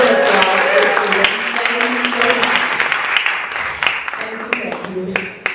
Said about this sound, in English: One more round of applause for Stephen.